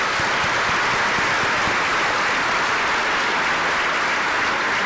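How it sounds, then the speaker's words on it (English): Audience applause fills a WildStar game panel Q&A session at a convention, a dense, steady wash of many hands clapping at full volume for the whole stretch, with no voices standing out. "Would you do me a favor and give these guys a round of applause?"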